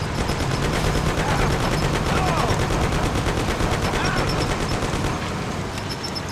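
Rapid bursts of automatic gunfire from the video game Mafia: The City of Lost Heaven, loud and continuous, with dense overlapping shots and a steady roar beneath.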